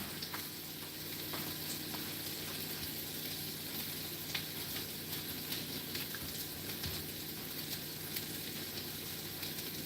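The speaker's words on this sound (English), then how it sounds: "this is a cast iron skillet that I'm cooking in" Steak sizzles steadily in a cast iron skillet with a dense, continuous crackle and occasional sharper pops, heard close up at low volume and without talk.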